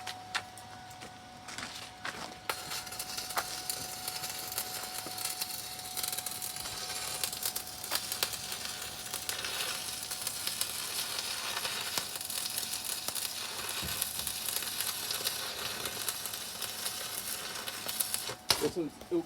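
Arc welding on the ends of a log splitter gives a close, steady, dense crackling sizzle that runs almost unbroken for about sixteen seconds before cutting off, with faint voices in the background.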